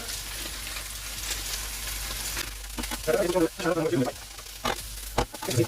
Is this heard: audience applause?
no